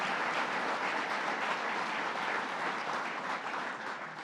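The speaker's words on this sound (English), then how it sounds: "Give him another round of applause for all he's done, Howard Zemsky." A large crowd applauding at a governor's announcement event for a workforce training center, dense, continuous clapping at an even level that eases off slightly at the end.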